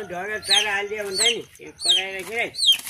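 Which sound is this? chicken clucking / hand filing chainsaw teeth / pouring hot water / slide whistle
chicken clucking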